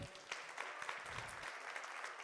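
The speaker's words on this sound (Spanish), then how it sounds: "Dale un aplauso al Señor" Church congregation applauding together in a large worship hall, a steady dense wash of clapping that stays even and fairly faint throughout.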